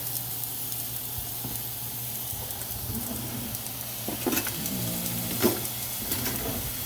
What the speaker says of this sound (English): once it gets done searing on the side, or the majority of the sides